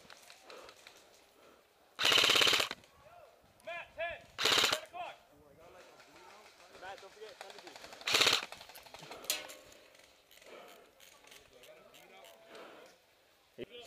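Bursts of gunfire in a first-person shooter video game, with loud volleys around two, four and eight seconds amid lighter shots, mixed with players' voice chat.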